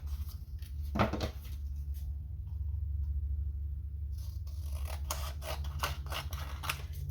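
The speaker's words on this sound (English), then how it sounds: "Now, I guess we could cut more of our" Scissors snip paper tabs for a burger-themed junk journal folio, a sharp cut near the start and a run of quick close crisp snips toward the end over a steady low room hum.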